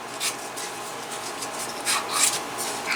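Sanding the edge of a burnished leather IWB holster, a series of close, dry rasping strokes in an uneven rhythm, with no talk.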